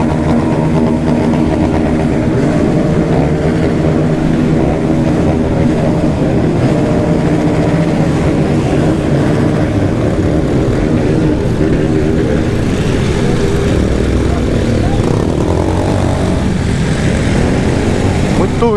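A BMW S1000RR motorcycle engine roars loudly and steadily on a hill, its dense, unbroken drone swelling and shifting in pitch through the whole stretch.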